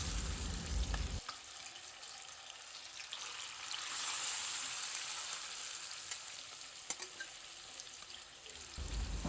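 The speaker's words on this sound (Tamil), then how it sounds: "எண்ணெய் நல்லா காஞ்சவுடனே ஊற வச்சுருந்த சிக்கன் எல்லாத்தையுமே ஆட் பண்ணிக்கோங்க." Marinated chicken is frying in hot oil in an iron kadai, a soft continuous sizzle with occasional stirring clicks, quiet and steady with no talk.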